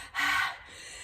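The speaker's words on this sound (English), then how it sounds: "Heavy breathing." After a dumbbell workout comes one short, forceful breath in, a sharp gasping rush of air close to the mic. It fades into quiet room tone.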